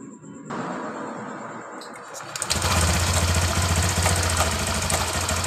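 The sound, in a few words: Honda Genio scooter engine started and running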